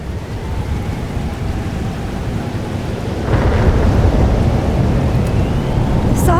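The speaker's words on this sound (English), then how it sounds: "It's here too. But there wasn't a storm the day Safi died" A thunderstorm in the video game Life is Strange Double Exposure: steady, dense rain hiss with low rolling thunder rumble underneath, swelling louder about halfway through and continuing without any voices.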